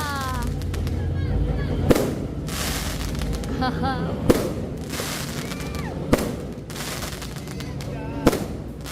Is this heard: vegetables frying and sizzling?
no